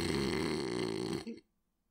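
A voice imitates a father snoring: one drawn-out, rasping, throaty snore, close and fairly loud, that cuts off abruptly into silence.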